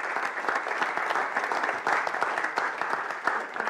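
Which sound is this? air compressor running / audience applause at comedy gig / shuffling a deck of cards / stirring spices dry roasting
audience applause at comedy gig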